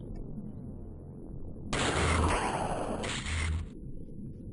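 Gunfire from the OpenXcom strategy game, a loud broadband burst lasting about two seconds with a second shorter burst right after, set over a steady low game hum.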